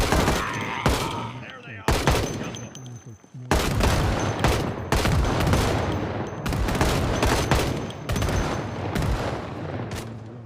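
Rapid bursts of gunfire in Project Zomboid hammer at a Cadillac Gauge Commando, loud automatic volleys repeating in clusters with brief gaps, with faint talk between.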